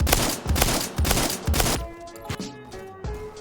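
Rapid shotgun blasts in the video game Phantom Forces, a dense run of loud booming shots over the first two seconds, then a few sparser, fainter shots trailing off.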